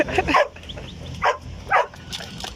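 A guard dog barks in short, sharp bursts, four or five close, loud barks spaced irregularly across a few seconds, with faint background noise between them.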